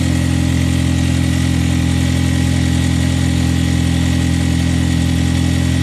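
A VW GTI engine idles steadily while its battery charges through jumper cables, a loud, constant mid-pitched hum with a faint vibration running throughout.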